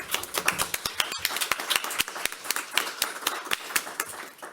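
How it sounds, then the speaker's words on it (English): Audience applauding panelists after a panel discussion on closing the micronutrient gap in secondary cities: sparse, distinct hand claps from a small group, fairly close, fading toward the end. "Let's give them a round of applause."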